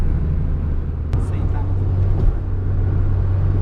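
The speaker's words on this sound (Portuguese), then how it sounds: "tô andando aqui na estrada com o carro" A Ford Fiesta drives along a highway on a hot day, its engine and road noise a steady loud drone with a constant low hum and no break.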